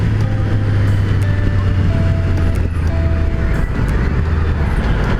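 A 2018 Triumph Street Triple RS 765 motorcycle runs with the throttle laid open, giving a loud, steady engine drone with a low hum and constant wind rush throughout.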